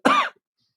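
A single short, close cough with a throat-clearing rasp, loud and alone, lasting under a third of a second before silence.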